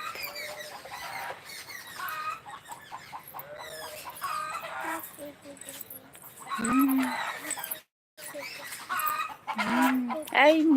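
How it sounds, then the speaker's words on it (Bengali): Chickens cluck and squawk intermittently in the background while people talk nearby outdoors. "মুরগি ডাকছে ওইদিকে"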